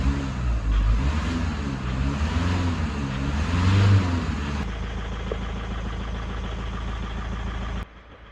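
Skoda Yeti 2.0 TDI 4x4 diesel engine running after a year stored in a garage under restoration, close and loud, first revving up and down with a rising and falling drone, then settling into a steady, clattery idle.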